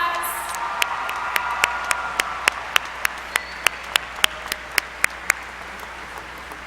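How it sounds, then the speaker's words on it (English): A graduation ceremony crowd applauds with a soft wash of clapping under a sharp, evenly spaced beat of rhythmic claps that rises and then stops, fairly loud and close. "Let's give Mr. Salutatorian another big round of applause."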